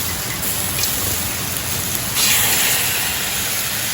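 Steady rain patters and hisses on a hard surface, loud and close, swelling slightly partway through, with no talking.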